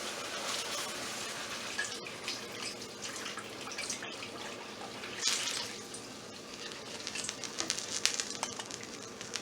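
Hot water poured into a roux while it is stirred, a faint steady trickle and patter with light splashing throughout, close and quiet.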